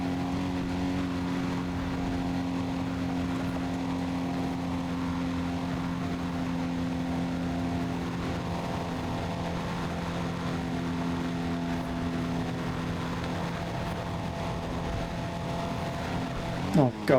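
A Toyota Supra engine drones steadily in the Need for Speed ProStreet racing game, holding a constant tone for the whole stretch before shifting and rising sharply right at the end.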